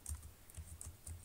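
Quiet, steady typing on a computer keyboard while entering a chapter heading in a thesis document, with soft key clicks in a quick, even rhythm and no voice.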